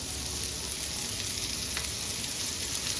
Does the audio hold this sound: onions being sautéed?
yes